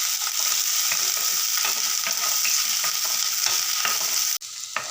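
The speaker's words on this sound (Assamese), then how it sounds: "ইয়াতে মই এতিয়া পিঁয়াজখিনি দি লৈছোঁ, জলকীয়া দিছোঁ, শুকান জলকীয়া দিছোঁ" Sliced onions with green and dried red chillies fry in hot oil. The loud, continuous sizzle comes close up, with stirring scrapes at intervals, and it breaks off sharply near the end.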